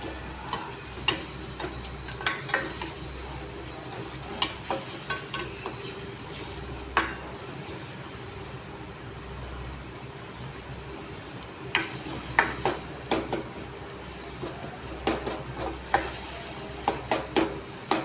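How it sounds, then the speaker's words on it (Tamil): Onion sautéing in a pan for egg podimas, a steady low sizzle with frequent sharp scrapes and clicks of a spoon stirring against the pan, close and alone. "நல்லா கொஞ்சம் சிவப்பாக வர்ற அளவுக்கு நல்லா வெங்காயத்தை வதக்கணும்"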